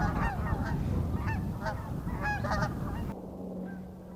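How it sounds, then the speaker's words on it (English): Several Canada geese honk repeatedly in short, loud calls over a steady background rumble, then the honking fades and drops away near the end. "after a brief interruption from the Canadian geese"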